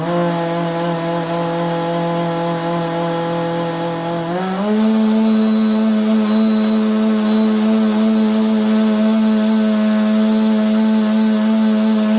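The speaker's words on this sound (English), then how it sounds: "Pop it on the blender." A countertop blender whirs steadily with yogurt, banana, coconut milk, an ice cube and juice inside, its motor pitch stepping up partway through and then holding as a loud, continuous drone with no talk.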